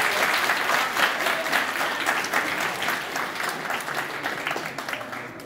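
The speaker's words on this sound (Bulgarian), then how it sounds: "Още аплодисменти и за Васил Кацарски." Sustained audience applause for the actors of a drama theatre troupe, dense and steady throughout, loud and close, with no pauses.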